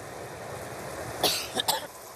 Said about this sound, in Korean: 그러면 기침이 자꾸 나오니까.